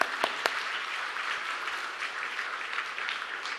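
A church congregation applauds during a Sunday worship service, with a couple of sharp early claps and then an even patter of many hands that stays moderately soft and continues throughout.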